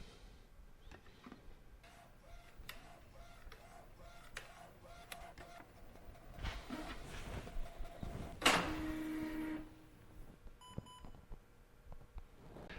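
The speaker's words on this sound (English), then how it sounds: "I'm going to run it out here to my printer." An inkjet-style printer runs off a provenance sheet for an art print, with a mechanical printing sequence, beeps and carriage movement, a louder feed burst in the middle, then quieter whirring, heard alone without talk.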